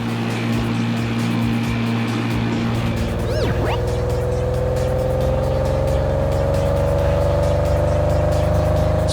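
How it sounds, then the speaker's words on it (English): A speedboat's engine zooms across the water, a loud motor drone that climbs steadily in pitch as it speeds up, with a brief whistling chirp early on. "Speedboat, a fast boat that zooms across the water."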